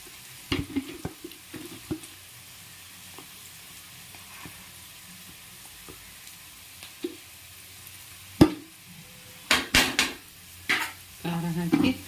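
Curry leaves and chili sizzle in a pan for egg rice, a low frying hiss under intermittent clinks and scrapes of a spoon stirring against the pan, with louder clattering near the end.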